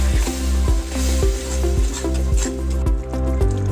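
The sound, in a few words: tomato puree sizzling in pan with mushroom masala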